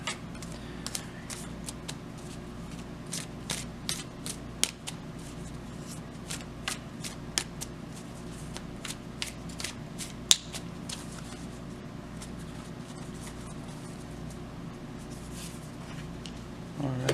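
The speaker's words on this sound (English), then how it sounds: "So I'll draw another card for that here." Tarot cards are shuffled and handled close by, with crisp riffles, flicks and taps scattered in an uneven rhythm over a low background hum. No one speaks.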